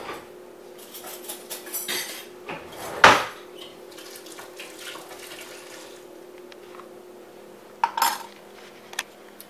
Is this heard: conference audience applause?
no